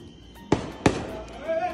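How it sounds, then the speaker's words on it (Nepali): Two sharp, loud cracks from small cigarette firecrackers bursting during a Diwali celebration, spaced about a third of a second apart, with faint voices and background noise around them. "सिगरेट पटेका भाइले एउटा पड्काउँछ अरे।"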